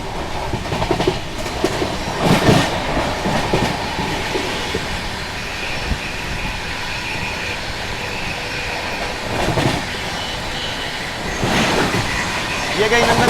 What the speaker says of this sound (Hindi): ये गई नंदन कानन एक्सप्रेस।